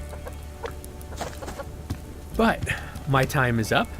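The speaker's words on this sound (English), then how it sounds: "I'll have 2 chickens for now." A chicken in the survival game Subsistence gives a few short clucks and squawks, louder toward the end, while someone talks over it.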